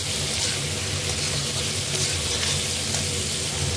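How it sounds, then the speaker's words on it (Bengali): Potatoes cut into curry-sized chunks fry in oil in a pan, giving a steady, close, continuous sizzle and crackle throughout with no talking. "তেল দিয়েছি, আলুটা একটু ভেজে নেব"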